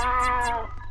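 A single drawn-out meow from a cat in Roblox, loud and close, tapering off at the end.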